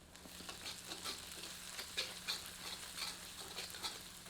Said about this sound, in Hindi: अब इसमें आधा टीस्पून हल्दी डालकर कुछ क्षण भूनते हैं।